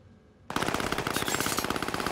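Automatic gunfire in Call of Duty: Modern Warfare bursts in suddenly after a quiet moment, a loud, rapid, continuous machine-gun rattle with closely spaced shots.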